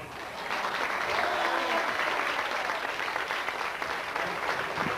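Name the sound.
audience applauding a speaker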